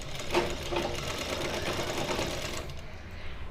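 A sewing machine stitches a kurti neckline in a steady rapid run of needle clatter and motor whir, stopping abruptly near the end.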